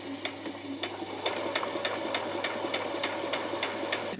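A sewing machine runs steadily while stitching a skirt on its longest stitch length, its needle thumping in a quick, even rhythm close by with no talking.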